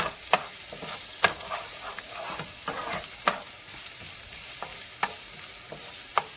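Garlic sautés in a pan with a soft, constant sizzle, broken by sharp spatula scrapes and clinks against the metal every second or so, close up with no talk.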